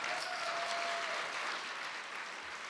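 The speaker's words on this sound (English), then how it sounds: "Give a round of applause for the Congressman." An audience at the IGFA Tommy Gifford fishing awards applauds a congressman, with steady, dense clapping from a large crowd that fades slightly toward the end.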